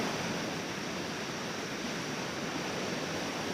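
Rocky waterfall stream in Bhutan, water rushing steadily over stones as a dense, continuous broadband roar, close and unbroken with no voices.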